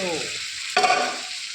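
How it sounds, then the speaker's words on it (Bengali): Meat cooking in a pan for a home-style curry with potatoes, a steady close sizzle that swells briefly midway as if stirred, alone with no voices. "এই তো মাংস রান্না হচ্ছে"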